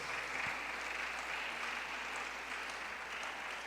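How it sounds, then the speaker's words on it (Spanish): A church congregation applauding the fathers during a service, steady broadband clapping held at an even, moderately distant level for the whole stretch. "les damos un aplauso a todos ustedes"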